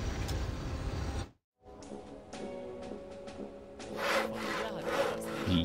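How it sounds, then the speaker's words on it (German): Logs being chopped and sawn in the game Odyssee, with a steady rough wooden rasping under game ambience that cuts out for a moment and then returns with a few sharper knocks and scraping strokes. "Ich habe mal meine Holzstämme hier gehackt, gesägt und gehackt"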